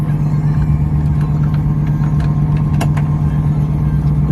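A BMW 135i with a freshly rebuilt engine idles and pulls away, a steady close engine hum with a strong low drone, heard from inside the car.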